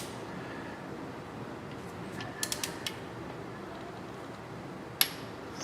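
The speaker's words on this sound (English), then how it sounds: "The next thing we're going to do is grab our torque wrench here." A torque wrench clicks and ratchets in short quick bursts while tightening a spark plug on a Toyota Highlander, followed by a single sharp click after a pause, all over a quiet background hum.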